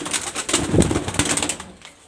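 A short burst of low pigeon cooing up close, mixed with some scuffling and rustling, fading out at the end.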